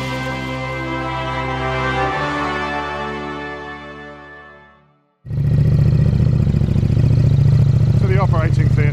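A KTM Super Duke 1290 R with a Rottweiler intake and airbox runs on a dyno indoors, first a steady high rev that winds down to near silence, then a loud rough idle that picks up again.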